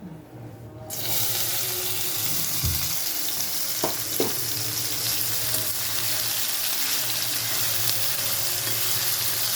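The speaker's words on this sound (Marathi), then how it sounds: "तर आपण हे तेलात हे टाकून घेऊयात" Cooked vegetables dropped into hot oil for fried rice stem, with a loud dense sizzle bursting on after a brief quiet start and hissing steadily. A couple of light stirring knocks come through close by.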